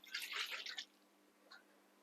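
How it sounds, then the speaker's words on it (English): Water poured into a slow cooker for an Italian lamb casserole, a brief splashing pour lasting under a second, then quiet with a faint short trickle. "There is a litre of water going in."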